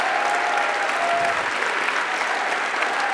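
A conference audience at PyCon 2015 claps in dense, sustained applause, a steady wash of many hands from start to finish with a faint voice briefly audible underneath.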